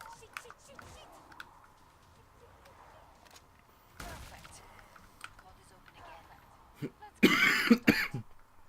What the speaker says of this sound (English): I kind of shut up when I think I'm about to cough